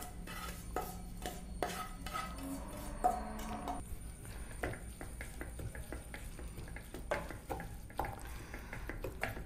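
Stirring fried coconut into Kerala-style pineapple pachadi in a pan: a ladle scrapes and clinks against the metal in irregular close strokes, with a faint background sizzle and no talk.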